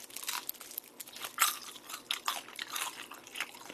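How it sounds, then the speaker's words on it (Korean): Crisp, irregular crunching of charcoal-grilled pork trotters and tteokbokki being chewed up close, quiet bites and crackles repeating without any talking. "바삭바삭하네요."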